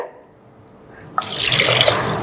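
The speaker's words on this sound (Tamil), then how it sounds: "ஸோ தண்ணி வந்து about 4 கப் தண்ணி விடுறேன்" Water pours into a pot for millet rasam in a home kitchen, starting suddenly after a quiet moment and running as a steady, fairly loud stream to the end.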